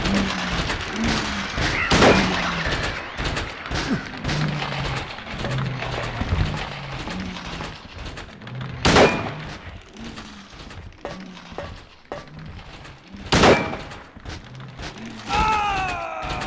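Gunfire from Silent Hill 2 rings out in several loud, sharp single shots spread across the stretch, over a rumbling ambient game soundscape with creaks and thuds.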